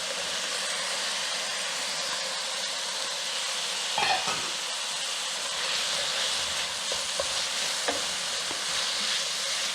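Eggplant and zucchini sauté in a pan with onions and garlic for Yemeni saltah: a continuous close hiss of frying, broken by a scraping stir around the middle and a few lighter stirs later.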